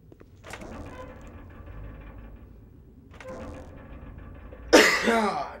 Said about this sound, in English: Damn these coughs!